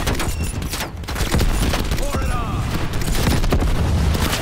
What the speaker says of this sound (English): Kita pakai granat launcher ya.